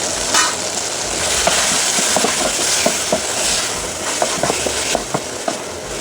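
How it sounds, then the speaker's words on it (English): Pork simmering and sizzling in a pan, a steady broadband frying hiss with scattered small pops and crackles, close and continuous for several seconds with no talk. "We are going to simmer for about 1 minute, 2 minutes, just to get that moist."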